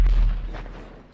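A single deep explosion in the video game GTA V, a heavy low boom that hits hard at once and then rumbles away over about a second.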